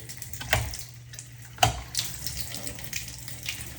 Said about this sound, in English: Looks like your shower valve is not shutting off either, completely like it should.